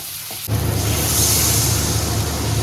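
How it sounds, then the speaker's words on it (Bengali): Fried kohlrabi tipped into a hot pan of oil with spices for a prawn curry, bursting into a loud, steady hiss after a short quiet lead-in and holding a continuous close sizzle. "এবার আমি ভাজা ওলকপিটা ঢেলে দিলাম"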